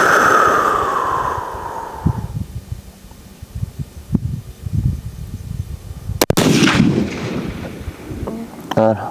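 A single loud, booming shot from a scoped .308 Win rifle rings out outdoors, followed by rolling echo and wind noise. Voices can be heard before and after the shot.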